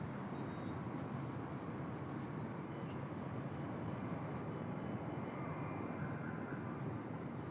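A wide-body airliner taxiing at Bangkok airport, with a steady broadband jet engine roar that holds constant and fairly loud throughout, with no talk.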